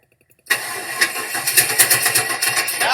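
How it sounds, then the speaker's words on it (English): A 1998 Vortec engine cranks steadily without catching, the starter's rhythmic churning loud and close after a brief quiet start, continuing to the end with no talking. "Oh, engine cranks doesn't start."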